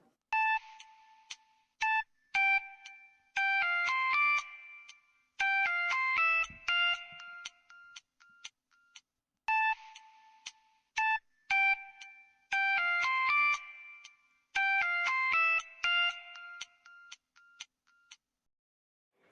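A mobile phone ringtone plays, a repeating electronic melody of bright beeping tones in bursts with short gaps, clear and alone with no talking over it.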